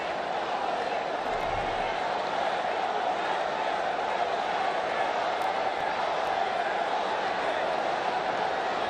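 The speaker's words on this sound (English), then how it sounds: "Outstanding crowd here at this stadium today, and they're very vocal right now." Large crowd at a cricket stadium during an India vs Pakistan T20 Asia Cup match, a steady dense roar of cheering and chanting that stays loud and unbroken throughout.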